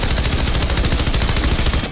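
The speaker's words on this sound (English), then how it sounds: "I hear a lot of shooting" Rapid, continuous automatic gunfire in the video game Fortnite: a dense, loud stream of shots with no break for about two seconds, close by and with no talking.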